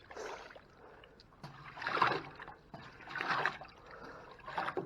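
Water splashes and sloshes in bursts at a gold dredge and sluice box with siding mats on a creek, close and fairly loud, with short pauses between surges.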